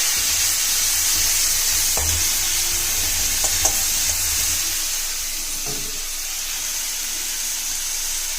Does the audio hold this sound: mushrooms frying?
yes